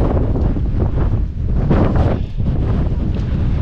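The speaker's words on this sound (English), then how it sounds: "Windy, still windy." Strong wind gusting to 64 mph roars and buffets the microphone continuously on the Peak District moors at Higher Shelf Stones, a loud, rough rumble with gusts rising and falling throughout.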